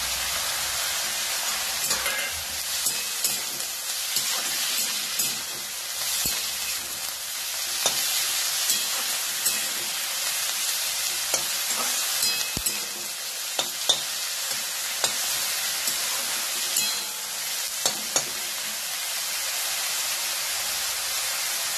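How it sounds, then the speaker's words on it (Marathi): Finely chopped pumpkin frying in a pan at home, with steady sizzling and repeated stirring scrapes across the whole stretch, close and fairly loud, with no talk. "पुन्हा याच्यामध्ये जो मी बारीक भोपळा चिरून घेतलेला आहे तो याच्यामध्ये घालायचा"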